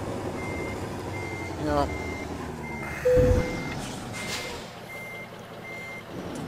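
Scania truck fitted with a sound mod in Euro Truck Simulator 2 sounds a regular chain of evenly spaced reversing beeps over engine rumble, with a brief air hiss midway and someone talking briefly.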